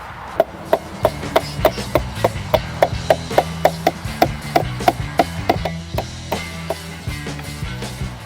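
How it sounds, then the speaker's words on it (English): A rubber mallet knocks a strawberry tower down into a wicking bed with a long run of steady, evenly spaced dull thuds at close range, about two or three blows a second. "I've just got a rubber mallet here."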